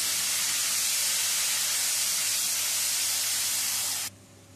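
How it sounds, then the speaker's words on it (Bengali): Tomato, green chili and Kashmiri chili paste sizzling in a pan, a loud, even hiss that holds steady, then cuts off abruptly near the end, with no voices. "তারপরে দিয়ে দিচ্ছি পেস্ট করে নেওয়া টমেটো, কাঁচা লঙ্কা আর কাশ্মীরি লঙ্কার পেস্ট"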